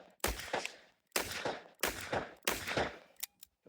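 Handgun fired four times at an even pace, each shot a loud, close, broad blast with a short decaying tail, followed by a couple of faint clicks.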